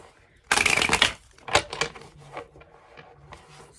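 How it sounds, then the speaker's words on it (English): A deck of playing cards shuffled for a card reading: a dense, loud riffle burst, then several shorter flicking riffles and soft card taps, close to the microphone with no talk. "let us shuffle this properly, okay guys, because I'm gonna using the same the deck for all 5"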